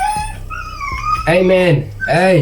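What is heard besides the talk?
dog whimpering in the background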